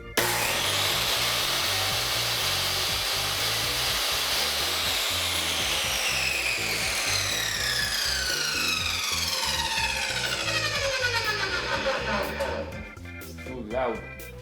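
Dewalt DWE7480 jobsite table saw running at full speed as its blade makes a first cut, a loud steady whine with rising and falling pitch sweeps as the blade loads, close up.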